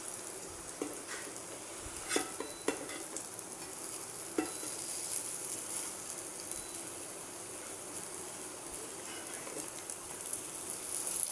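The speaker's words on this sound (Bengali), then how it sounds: "এটা একটু সময় নিয়ে ভাজতে হয়, তাহলে বড়াটা খেতে সুন্দর হয়, সুস্বাদু" Lentil fritters (dal bora) fry in oil in a pan, a low steady sizzle with occasional clinks and scrapes as they are turned, fairly quiet and close.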